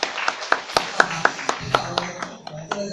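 A small audience at a parent-child classics-reading workshop in a temple hall claps in a light, even rhythm, about four claps a second, individual hand strikes distinct rather than a dense roar.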